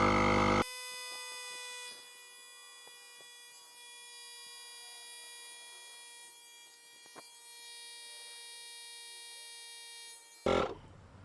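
A Wind Gallop portable air inflator pump runs with a steady, even buzzing drone, holding constant from start to finish with a louder burst at each end, and no talking over it.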